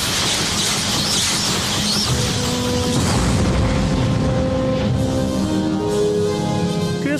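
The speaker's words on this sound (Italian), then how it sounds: "Ho analizzato nave prima di esplosione." A spaceship blows up in a sci-fi parody film: a loud, sustained rumbling blast with crackling debris fills the whole stretch, while tonal hums and synth notes ring through the later part.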